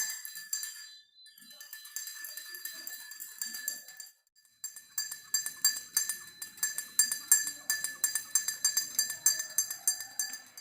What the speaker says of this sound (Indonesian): Kemudian kita aduk hingga rata.